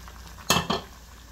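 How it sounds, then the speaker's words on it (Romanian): Potatoes go into a pot of sautéed onion for a cheap Romanian ciorbă soup, making two brief, close sizzling and scraping bursts over a quiet frying hiss. "După cum vedeți, ceapa s-a călit, adăugăm cartofii."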